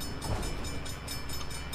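A steam train rolling past in the driving video game The Crew, a faint steady rumble with rhythmic clacking over a low, continuous drone, with no talk.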